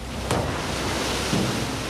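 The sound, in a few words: rough sea waves washing over a dive boat deck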